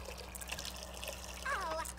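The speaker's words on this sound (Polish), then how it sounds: "weź prysznic tu." A shower runs in The Sims 2 video game, a soft continuous spray of water with a brief voice rising over it near the end.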